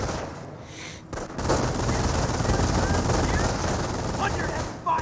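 Heavy gunfire in the Company of Heroes video game, sustained loud machine-gun rattle and battle din that swells after a brief lull and keeps going, with voices mixed into the noise.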